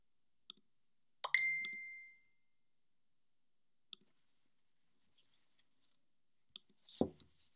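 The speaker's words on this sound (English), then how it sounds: "you're going to get all these notifications" Mac computer notification alerts, a scattering of short soft pops and chimes spread across near silence, with one brief ringing tone and a louder thud near the end.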